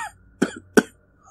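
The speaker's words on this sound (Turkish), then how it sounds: "Boğazından kuru bir öksürük yükselir." Two sharp, dry coughs from one person, close and loud, preceded by a faint breathy sound and followed by a soft trailing exhale, with no talking.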